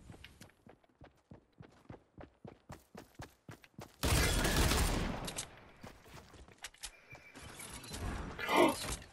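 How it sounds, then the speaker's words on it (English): Fortnite gameplay with a heavy shotgun: a run of regular clicking steps or reloads, then a sudden loud blast around the midpoint that fades into scattered clatter and movement. "My heavy shotgun."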